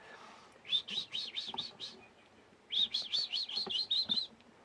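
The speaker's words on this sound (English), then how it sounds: "Can you hear the birdies outside, Emma?" Two quick bursts of high, rapid bird chirps, faint and a little distant, with a quiet pause between them.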